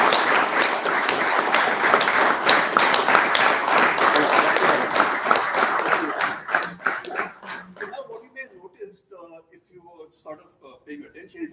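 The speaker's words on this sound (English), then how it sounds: "Let's see if you can all applaud as one" A live audience at a physics week event claps together, trying to applaud in unison, producing dense loud clapping for about seven seconds that thins into a few scattered claps and murmuring voices as it dies away.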